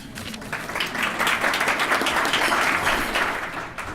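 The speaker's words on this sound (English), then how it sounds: "I think it is a good idea to applaud in advance" An audience at a chamber of commerce mayors' luncheon claps, a dense, even burst of applause that swells and holds for several seconds.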